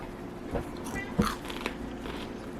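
Crunchy, crispy roasted chickpeas bitten and chewed close to the mic, a few short sharp crunches over a quiet room.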